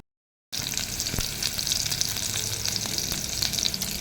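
Onions and garlic being sautéed in a pan, a steady hiss of sizzling oil with a few stirring knocks, close and continuous after a short silent start.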